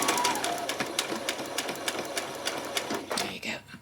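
A domestic sewing machine runs a short back stitch on fabric, a fast, close, rhythmic clatter of needle strokes that slows and stops near the end, with a voice faintly under it.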